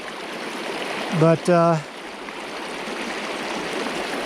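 Mountain stream rushing through pocket water on a brook trout fly fishing outing, a steady broadband flow filling the whole clip with a brief spoken word partway through.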